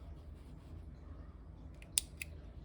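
Scissors snip yarn ends on a crocheted mug hug, two quick faint cuts near the end over a quiet background.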